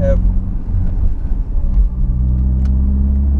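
A 1991 Mercedes 124 200CE engine rumbles low and steady with a throaty sport rear exhaust drone, close by and fairly loud, with no break in the sound.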